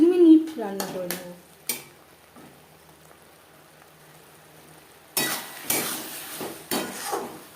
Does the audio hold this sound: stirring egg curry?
yes